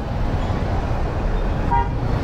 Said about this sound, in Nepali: हर्न बजाएर के गर्नु मलाई, मेरो बाइक हो उड्ने होइन